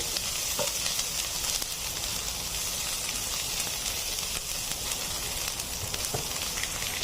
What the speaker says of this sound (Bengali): আমি এই যে শুকনো মরিচ আদা কুচি রসুন কুচি পেঁয়াজ কুচি এবং কাঁচামরিচ কুচি সামান্য একটু ভেজে নিলাম ভার্জিন অলিভ অয়েলের মধ্যে